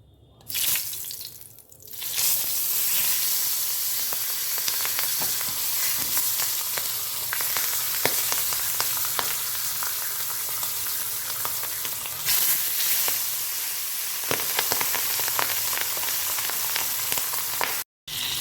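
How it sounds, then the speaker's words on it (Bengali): Two pabda fish frying on high flame in hot oil in a pan, a loud, steady crackling sizzle that runs almost unbroken, with a few sharper pops and a brief quiet dip near the end. "ফ্লেমটাকে হাইতে রেখে আমি মাছ দুটো একটু ভেজে নেব"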